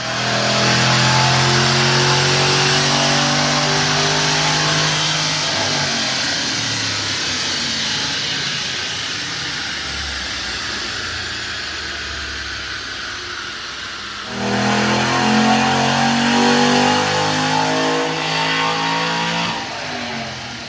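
2008 Ford Mustang 3-valve V8 with upgraded cams and intake, revving hard on a dyno: a loud sustained pull, then a quieter lull, then a second rising pull, all close.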